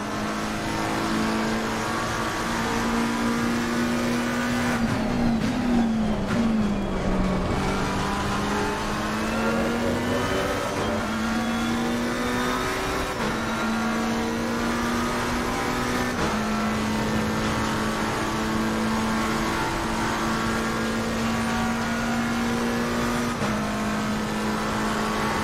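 Racing game with a McLaren race car, its engine drone holding a steady high pitch and dipping once during a gear change or braking, continuous and close, alone without talk.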